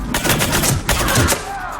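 Dense rapid gunfire in the video game Mass Effect 3, Citadel DLC: loud, continuous volleys of overlapping shots with sharp bursts and a rumbling low end throughout.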